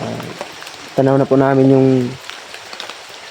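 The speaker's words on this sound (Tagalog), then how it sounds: "nabutan na nga tayo ng ulan" Steady rain patters and hisses outdoors on an afternoon journey, a continuous crackling wash beneath someone speaking briefly in the middle.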